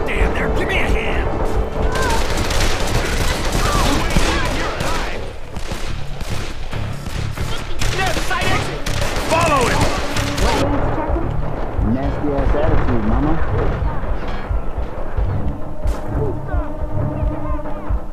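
Heavy gunfire fills a firefight in the co-op shooter Call of Juarez: The Cartel, with dense overlapping shots and bursts, loud and close, while several people talk and shout over the shooting.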